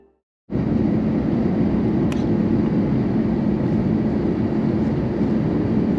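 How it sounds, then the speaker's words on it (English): An Iberia airliner lands at Madrid's airport at night, heard from inside the cabin as a loud, constant engine and airframe roar that begins abruptly and holds steady, with one faint brief tick partway through and no talk. "Take a look at this awesome nighttime landing into Spain's largest airport."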